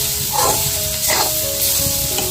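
Taklya wild greens sautéing in a pan give a steady, close sizzle throughout, with a few soft stirring scrapes over the continuous frying hiss.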